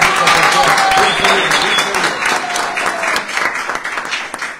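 A crowd gives loud applause to a youth games champion at an evening ceremony, a thick, sustained clapping that slowly thins toward the end, with voices faintly mixed in.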